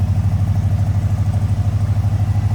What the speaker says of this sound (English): Listen to that little rumble coming out of that 400.